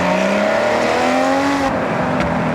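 A Ferrari engine revs in the Forza Horizon 6 racing game, a loud, close, throaty bark at low RPM with rising and falling pitch, running alone without talk.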